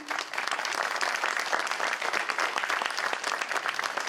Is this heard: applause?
yes